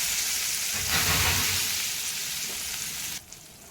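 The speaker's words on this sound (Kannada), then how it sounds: "ಸ್ಲೋ ಉರಿಯಲ್ಲೇ ಒಗ್ಗರಣೆ ಹಾಕ್ಕೊಳ್ಳಿ" A tempering sizzles loudly in hot oil over a low flame before being spread over white coconut chutney; the steady crackling hiss swells, then cuts off abruptly near the end.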